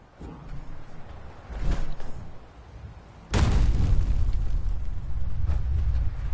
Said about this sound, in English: Did he just throw a grenade at me?